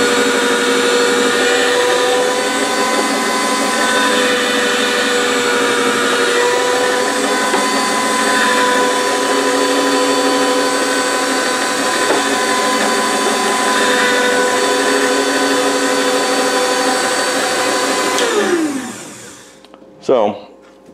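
A slicing machine cuts goose meat into strips for jerky, giving a loud steady motorized whine that runs for about eighteen seconds before winding down, followed by a few brief clatters.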